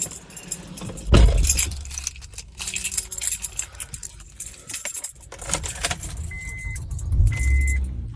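A parked car is started and pulls away onto the road, with keys jangling, a brief engine thump, then a steady interior rumble of driving with rattles and a couple of short electronic beeps.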